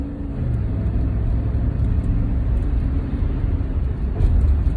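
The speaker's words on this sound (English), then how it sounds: "It's traffic." Motor traffic rumbles continuously, a low, heavy drone of passing vehicles with slight swells in loudness and no voices.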